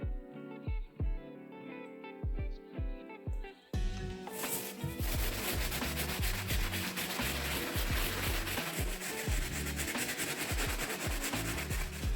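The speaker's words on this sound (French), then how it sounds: "on se prend maintenant la brosse médium, on va venir tremper dans la solution et on va venir mettre un coup général sur toute la paire" A medium brush dipped in cleaning solution scrubs all over a pair of Jordan 1 Low Starfish sneakers, starting with a few separate strokes and then becoming steady, loud, continuous rubbing with no talking.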